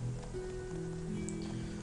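Steady rain ambience from the Pokemon Volt White game on a rainy-weather battle, a constant hiss with a faint tonal game music layer underneath, no speech.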